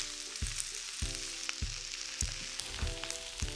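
Onions fry in a hot pan with pot roast juices, a close, steady sizzle broken by a few sharp knocks or clicks at regular intervals.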